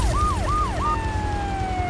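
A police siren from Grand Theft Auto III wails in quick rising-and-falling sweeps, then settles into a long, slowly falling tone as the vehicle passes, loud over low engine and traffic rumble.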